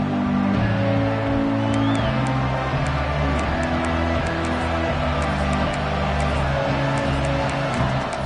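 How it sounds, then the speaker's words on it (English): Stadium crowd in the NCAA 26 college football video game, with Notre Dame kicking off, keeps up a loud, dense, unbroken roar from start to finish, like a packed stadium at night. "This crowd ready to make its presence known"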